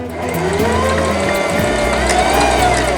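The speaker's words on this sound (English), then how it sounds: "So on this mechanical machine, I don't want to sew super fast, so I'm just sewing at like a halfway speed" A Singer Heavy Duty 5554 mechanical sewing machine running at a steady medium speed, giving a loud, continuous mechanical whir and rhythmic rattle close up, with no talking.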